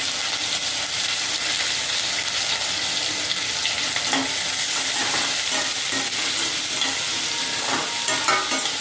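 Onions, green chillies and curry leaves fry in hot oil, a loud continuous sizzle with scattered crackles and pops and occasional stirring scrapes.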